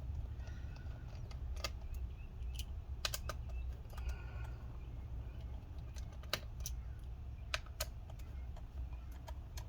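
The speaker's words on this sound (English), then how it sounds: "we're going to also remove the screws holding the hard drive in place" Small screws being removed from a hard drive mount inside an ASUS ROG GL703VM gaming laptop make scattered faint clicks and ticks over a steady low hum, with no talk.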